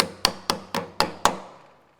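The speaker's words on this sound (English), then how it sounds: "Hammer it on." Six sharp, evenly spaced hammer taps, about a quarter second apart, as a wheel weight is driven onto a rim during calibration of a Kernel wheel balancer. The taps are close and clear with no talk, and each strike rings briefly before the next.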